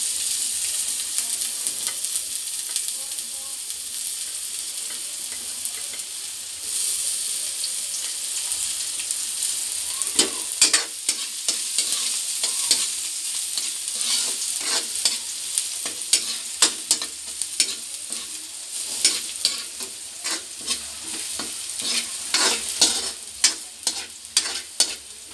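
Garlic and ginger frying in a pan while being stirred for a seafood caldereta, a steady soft sizzle with scraping stirs growing more frequent and pronounced toward the end.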